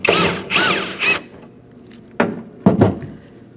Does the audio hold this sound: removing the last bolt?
yes